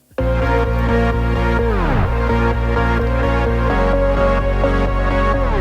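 Electronic music with a deep, steady sub bass pulsing under layered synth chords, continuous and loud, with a brief pitch dip partway through.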